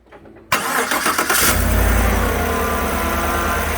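A 2018 GM truck that runs rough with misfire and rich-fuel faults starts up: an abrupt crank catches into a loud engine, which settles into a steady, close idle.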